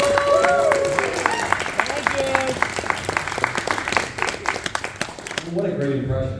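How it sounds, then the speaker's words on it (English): Audience applause at a New York Comic Con panel, sustained clapping and some cheering under a speaker's voice, tapering off near the end. "I just want to give her a round of applause."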